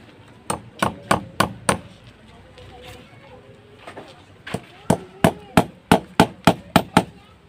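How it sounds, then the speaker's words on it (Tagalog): A hammer drives nails into wood while a plastering layout is being set up, with a run of five sharp close blows, a short pause with background murmur, then about ten more evenly spaced strikes. "Kailangan magpumako kayo dito na sa baba."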